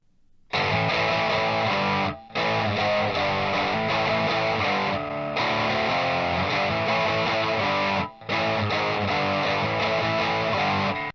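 A heavily distorted electric guitar plays thick, saturated riffs at full volume, with two brief pauses where the sound cuts out before resuming.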